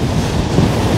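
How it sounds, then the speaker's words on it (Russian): A stormy sea pounds Anapa beach, a loud, continuous roar of surf mixed with heavy wind buffeting the microphone, with no voices over it. "Ветер дует, ух, огонь."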